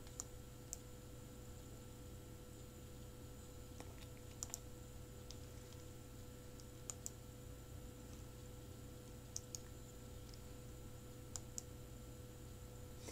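Faint, sparse computer mouse clicks, a few isolated ticks spaced seconds apart over a steady low electrical hum in a quiet room.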